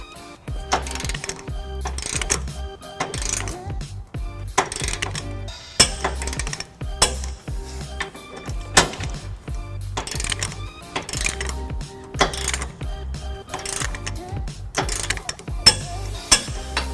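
Repeated ratcheting clicks and metallic clinks as a torque wrench with extension and 19mm socket tightens trailer hitch bolts on a 2010 Nissan Titan, close and steady in rhythmic bursts throughout.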